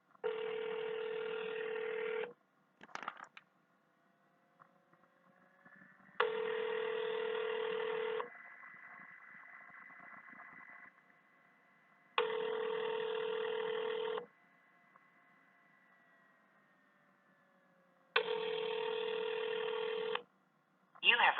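Dual-tone keypad beeps sound four times at steady intervals on a city police department phone menu line, each tone lasting about two seconds, with quiet line noise and faint automated voice prompts between them.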